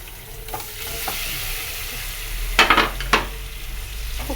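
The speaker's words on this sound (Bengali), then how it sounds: "তো ডিমটা একটু ভেজে নিব, দেন ভুনা করব। লবণ আর হলুদ দিয়ে দিলাম তেলে" Eggs frying in oil seasoned with salt and turmeric, a steady close sizzle with bursts of sharper crackling and spattering midway, plus light stirring clinks.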